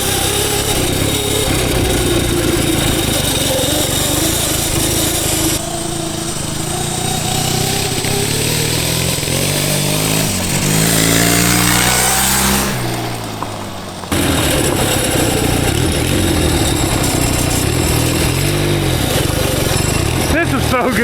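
A homemade twin-cylinder, four-speed mini bike built from junkyard parts runs and revs, its engine pitch sweeping up and down with a brief drop near the end. Voices talk over the engine.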